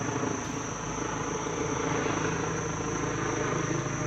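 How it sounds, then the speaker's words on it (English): A helicopter passes at a distance as a steady broadband drone, mixed with constant high-pitched cricket or insect chirring and no speech. "Come on, helicopter, going by."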